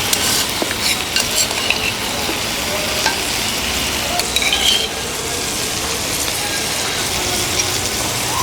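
Village-style curry of large black carp sizzles and crackles loudly in the pan as broth is poured in, with a dense, steady hiss and scattered pops and scraping stirs, close up and with no talking.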